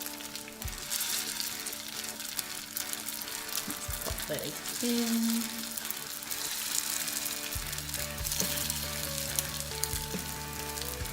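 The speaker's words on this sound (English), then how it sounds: "You want to hear them sizzle straight away," Steady crackling sizzle of Bengali fish cakes frying in hot oil in a pan, continuous throughout, with a few brief clinks and a low hum joining near the end.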